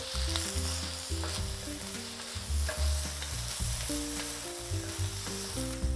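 Sugar snap peas with grated fresh ginger stir-fry in a hot pan, a constant crisp sizzle broken by repeated scraping strokes of stirring, close up and steady throughout, no voices.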